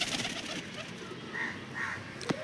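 Pigeons in a loft give soft, low coos amid faint ambient noise, with a couple of brief calls and a short sharper sound near the end.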